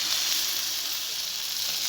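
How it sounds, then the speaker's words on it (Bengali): Butter sizzling in a hot oil-coated wok, a steady bright hiss that holds evenly for a couple of seconds with no voices. "এক চামচ বাটার দিয়ে দিলাম"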